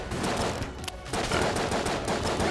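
Hand cannon fire in the video game Exit the Gungeon, loud dense rapid blasts continuing almost without pause, with a brief dip near the first second, alone without talk.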